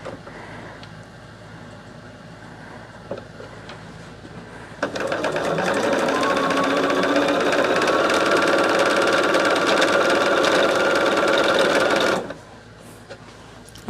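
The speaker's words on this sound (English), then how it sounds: "We're going to sew on that back side of the backwards L." A sewing machine stitches quilt block pieces nearby, running in one continuous steady whirring burst of about seven seconds, with quiet handling sounds before and after.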